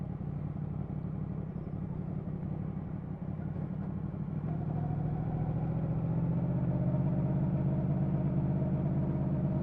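A motorcycle rides off from Squires Cafe in Sherburn in Elmet, its engine rumbling steadily and then rising in pitch and strength as it pulls away, with no speech.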